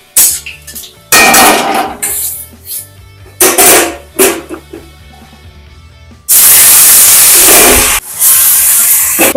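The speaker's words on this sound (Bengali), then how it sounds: "এর মধ্যে এবার এই মাংসগুলোকে অল্প অল্প করে কড়াইয়ে দেওয়া হবে।" Mutton pieces hiss and sizzle loudly as they go a few at a time into a hot kadai of oil tempered with whole garlic, in bursts of sputtering spray with clanks of a utensil between them.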